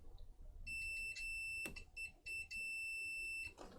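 Multimeter in continuity mode testing pins on a circuit board for shorts, giving loud, sustained electronic tones in several separate stretches with brief gaps and small clicks between them.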